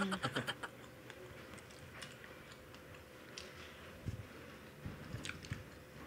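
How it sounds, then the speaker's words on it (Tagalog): Close, quiet bites and soft moist chewing of a Jollibee Cheesy Yum burger, a few crunchy bites at the start and then irregular squishy chewing sounds, with no talk. "Try ko tong burger ha. Cheesy yum burger."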